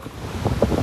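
Sea waves roll onto the shore with a rumbling wash that swells toward the end, heard briefly under gusty wind buffeting the microphone.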